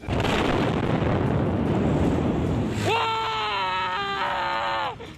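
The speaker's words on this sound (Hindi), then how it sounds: "रिफाइनरी में हो रहे धमाकों से लोग थर्रा उठे।" A loud, roaring blast from explosions at an oil refinery fills the first few seconds, then a steady rising-and-falling wail of voices or sirens takes over as the rumble continues beneath.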